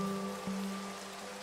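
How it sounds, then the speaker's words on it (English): Minecraft rain falls as a steady dense hiss under a low constant hum and faint tonal drones, unbroken through the short stretch and with no speech. "Here we are with the gentle sounds of rain coming down."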